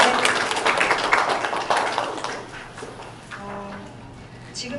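A meeting audience applauds, a dense burst of clapping that fades over a few seconds while a voice begins talking underneath.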